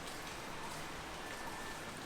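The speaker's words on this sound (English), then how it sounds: "Today it's just like light rain." Light rain falling on a tin roof, a steady soft hiss of drops spread evenly through the whole stretch with no breaks, fairly quiet and diffuse.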